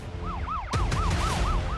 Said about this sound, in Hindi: लोम्बार्डी में सिर्फ एम्बुलेंस का शोर सुनाई दे रहा था।